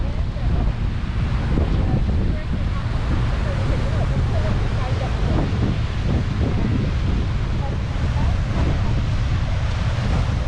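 Ocean surf and strong wind roar at Kaena Point on Oahu, a dense, continuous rush of waves and wind buffeting the microphone with no pauses.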